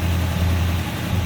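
A 1971 Oldsmobile Cutlass Supreme convertible with its 350 Rocket V8 idles under an open hood, a smooth, steady low rumble heard close and alone.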